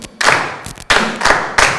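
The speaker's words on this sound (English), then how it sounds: "And clap." A choir group clapping hands in rhythm during a patterning drill, four sharp, close claps in an even beat with no talking over them.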